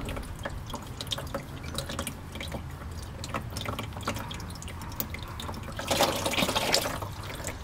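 Transmission fluid pours from the drain plug of a first-generation V6 Toyota Highlander, a steady close trickle and patter of liquid that swells into a heavier splashing flow near the end.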